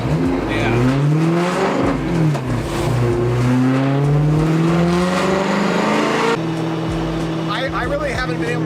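BMW M3 E92 engine revving and pulling through gear changes while driving, loud and continuous with rising and falling pitch sweeps, a brief dip at each shift, and a person talking over it.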